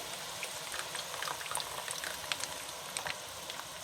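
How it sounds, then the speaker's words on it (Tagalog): Sweet and sour fish sauce with tomato sauce bubbling as it comes to a boil in a pan, a steady close simmer with scattered small pops and sputters, no voices. "Hintay lang natin kumulo mga guys. So ayan guys, makukulo na."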